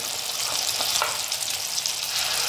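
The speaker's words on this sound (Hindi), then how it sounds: "मैंने यहाँ पे जो प्यूरी बनाई थी अब मैं इसको मैं इसमें तेल में डाल के हल्का सा फ्राई कर लूँगी" Tomato puree fries in hot oil with whole spices for dhaba-style matar paneer, a steady dense sizzle close by with no break.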